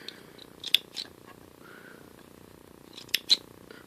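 Scissors snipping sewing thread after a button is sewn on with a Janome Skyline S7 machine: a few short, crisp close snips spaced apart over quiet room tone, with no talking.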